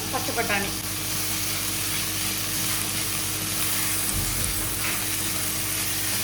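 Mint, tomato, carrot and potato sautéing in a pan for vegetable pulao, a steady close sizzle with occasional stirring scrapes and a constant low background hum.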